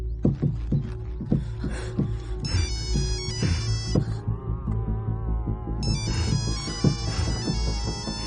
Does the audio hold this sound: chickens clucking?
no